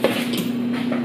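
Small metal cutlery clinks against a dish as a little fork is handed over at a family snack of apples and mango, a short bright clatter with a lingering ring, close by and with no talking.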